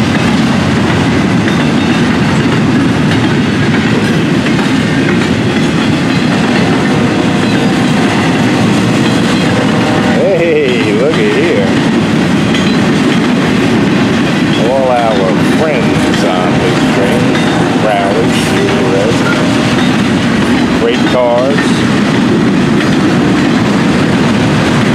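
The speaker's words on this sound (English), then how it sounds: "This train will be taking the side of the track" A Florida East Coast Railway freight train rumbles past loudly and continuously, wheels clacking over the rails with occasional squealing, close by and steady throughout.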